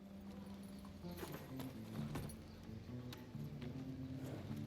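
A horse's hooves clip-clop at a steady walking pace in the video game Evil West. The footfalls are fairly faint against a low ambient hum and musical tones, with no talking.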